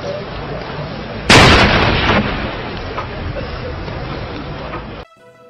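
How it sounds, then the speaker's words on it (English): A grenade explodes in the Punisher arcade game on a bartop cabinet, a single loud, sharp blast that decays into a rumbling tail over the game's background sound, with a voice talking through it. "While in the air, the Punisher will lob a grenade down below that really hurts the enemies"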